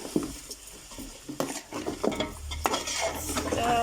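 Spoon stirring samp and mutton with salt and cumin in a metal pot, scraping and clinking close up in an irregular rhythm, with a soft sizzle underneath.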